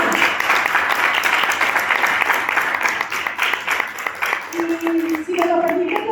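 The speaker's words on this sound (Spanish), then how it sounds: "perdón, pero voy a aplaudir." An audience bursts into sustained applause at the launch of a plastic recycling methodology, dense clapping that fades as a voice begins speaking near the end.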